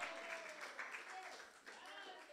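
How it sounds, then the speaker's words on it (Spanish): A crowd claps steadily in applause, a dense continuous patter of many hands, with a voice audible underneath. "Denle un aplauso al Señor."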